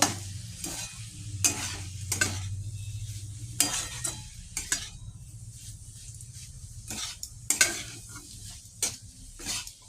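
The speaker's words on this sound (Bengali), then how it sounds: "আবারও খানিকক্ষণ ভালো করে নাড়াচাড়া করে নেব" Bottle gourd with cumin and coriander powder being stirred in a frying pan for a prawn dish; a soft sizzle under a series of sharp spatula scrapes in an irregular rhythm, close and alone.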